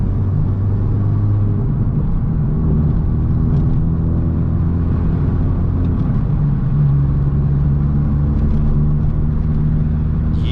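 A 2020 Honda Civic Si fitted with a PRL downpipe cruises along in normal driving, its engine giving a steady, loud, close cabin drone and rumble with slight shifts in pitch.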